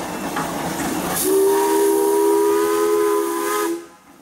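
A steam engine whistle at a pioneer engineers' parade: a hiss of steam, then one long, loud, steady tone held for over two seconds before it cuts off.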